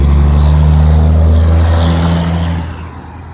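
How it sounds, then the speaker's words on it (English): Trucks and other traffic on a busy street make a loud, close, low engine rumble that holds steady before easing off toward the end. "I'm on a busy street today. I'm up earlier, so the trucks and everything are still out."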